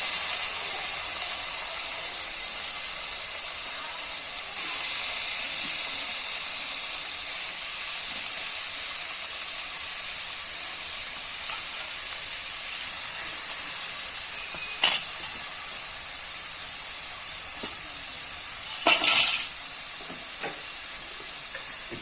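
Tomatoes sizzling in hot oil for a fish curry, a broad, steady hiss that stays even throughout, with a couple of brief clatters near the end and no talking.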